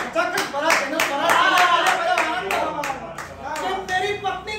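Audience applause at a Holi-season Hindi poetry recital (kavi sammelan), a dense burst of many hands clapping that swells and continues steadily through the clip, with speech-like tones mixed in.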